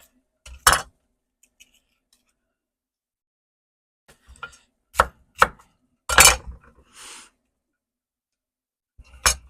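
A knife chops through food on a cutting board in scattered bursts of sharp, close chopping strokes separated by quiet pauses, cut roughly while smoked brisket, tomato soup and grilled cheese are being prepared.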